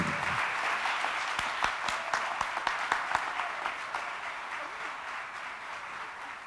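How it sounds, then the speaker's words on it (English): Sustained audience applause fills a hall at an LGBTQ community awards ceremony, a steady wash of many hands with a few sharper, louder claps standing out near the start, continuing evenly throughout. "So let's give them all a big round of applause"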